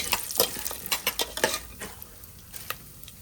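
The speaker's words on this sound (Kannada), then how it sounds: "ಸ್ವಲ್ಪ ಗೋಲ್ಡನ್ ಬ್ರೌನ್ ಬರೋ ತನಕ ಫ್ರೈ ಮಾಡಿಕೊಳ್ಳಿ" Lentils and peanuts frying in oil in a pan, a bright crackling sizzle with rapid scraping stirs in the first half, easing to a softer fry.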